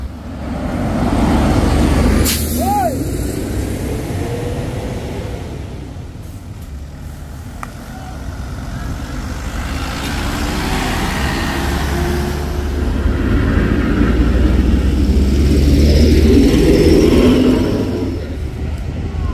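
Heavy trucks and buses labour up Bukit Kodok hill road, diesel engines droning and revving loudly with a sharp horn blast early on, traffic swelling and fading past a roadside spot.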